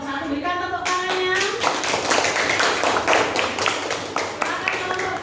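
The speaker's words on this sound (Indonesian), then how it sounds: "Berikan tepuk tangannya." A classroom group claps for a student after a recitation, a burst of many hands that starts after a brief pause and holds steady, fairly close and loud, with a voice faintly heard at the start.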